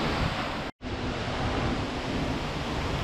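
Seljalandsfoss waterfall in Iceland, a steady, loud, broadband rush of falling water, close by and continuous, with a brief dropout near the start.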